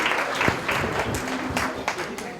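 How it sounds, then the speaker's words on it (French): Audience applause greeting a magician's stage act at a dinner show, a broadband patter of many hands filling the room, with a few sharper claps standing out over low murmuring. "Christian Marty, sous vos applaudissements."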